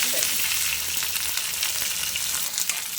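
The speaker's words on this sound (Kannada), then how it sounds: "ಒಂದು ಸ್ವಲ್ಪ ಎಣ್ಣೆ ಹಾಕ್ಬಿಟ್ಟು ಇದನ್ನು ಹುರಿತೀನಿ" Onion and tomato frying in a little oil for a sambar, a steady close hiss and crackle of sizzling with faint stirring, no voices.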